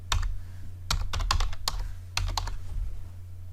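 Fingers typing a folder name on a computer keyboard, brisk bursts of close key clicks separated by short pauses over a low hum.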